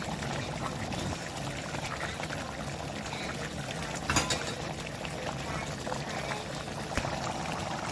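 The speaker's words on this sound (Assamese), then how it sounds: "মাংসখিনি ভালদৰে উতলিবলৈ দিয়া হৈছে" Pork curry with mustard leaf boiling in a pot, a low bubbling and gurgling liquid sound at a quiet level, with a few small splashes and a voice speaking over it.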